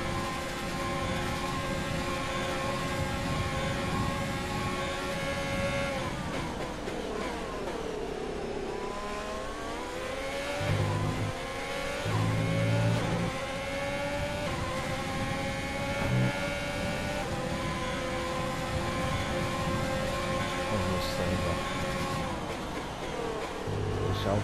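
Engines of F1 cars in F1 2020 racing on a Brazilian circuit, a steady high-pitched whine with gliding pitch sweeps as the cars accelerate and shift, loud and continuous over the whole stretch with no talk.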